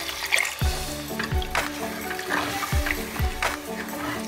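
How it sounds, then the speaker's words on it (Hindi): Half a litre of water splashes and gurgles into a pan of fried mutton liver in short pours, with low thumps and clinks of cookware, moderately close and fairly quiet. "अब हम इसमें 1/2 लीटर पानी डालेंगे"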